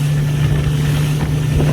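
Bass Buggy 16XL pontoon boat's outboard motor holds a steady hum at throttle, with wind and water rush blending in around the constant engine tone.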